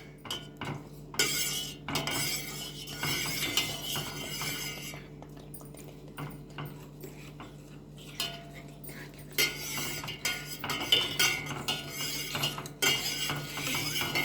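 A spoon stirs and scrapes through a mixture with chopped almonds in a metal bowl, giving repeated clinks and scraping bursts close by, with short pauses between strokes.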